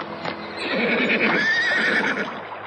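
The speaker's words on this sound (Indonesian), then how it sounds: "Mereka menuntun kuda mereka menyusuri Kali Sedayu." Horses whinny loudly in a radio drama scene of riders leading their mounts along a fast-flowing river, the high neigh rising and falling over a steady bed of hoof clip-clop and rushing water.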